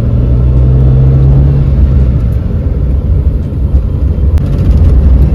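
A Tata Nano car drives fast, giving a loud, continuous low rumble of engine and road noise that stays steady and close throughout, with no talking.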